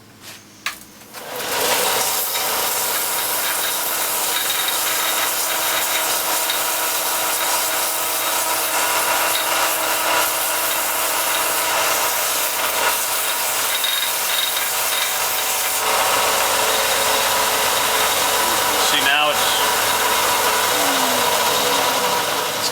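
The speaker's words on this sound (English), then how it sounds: "we're going to use the sander or sandpaper if you don't have a sander, and we're going to round off the top edge so it's not sharp" A power sander rounds off the top edge of a rattan stick for a flail, starting up after a few clicks and then running as a loud, steady abrasive whir, close and continuous.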